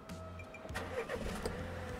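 A car with about 84,000 km on it, sold at auction, starting by push button: a short starter whir followed by the engine catching and settling into a low idle, heard close up and moderately quiet.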